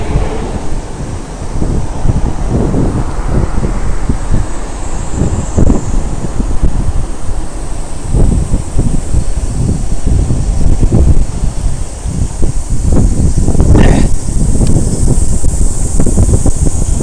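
Strong wind buffets the microphone continuously while riding on the way to Miyagase Dam, Japan, a loud rushing roar with gusty swells, like air rushing past while moving at speed.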